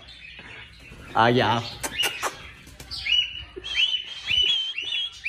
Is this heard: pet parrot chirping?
yes